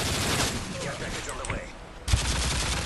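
Rapid automatic gunfire crackles in a first-person shooter video game, with dense bursts that dip briefly midway and then resume sharply.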